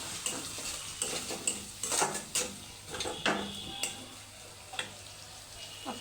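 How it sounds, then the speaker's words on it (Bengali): Vegetables stir-fried in a pan with turmeric, salt and green chillies for a bottle gourd and egg curry: scraping spatula strokes against metal over a faint sizzle, close and steady, with no talk. "আমি এবার সুন্দর করে এগুলোকে কষাই নিব।"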